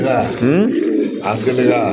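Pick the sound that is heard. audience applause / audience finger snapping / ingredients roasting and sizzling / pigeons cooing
pigeons cooing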